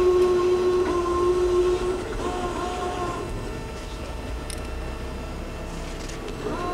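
A Daewoo flat bed CNC lathe runs with a steady mechanical drone and a clear tonal whine that shifts pitch slightly partway through, heard close by in a workshop.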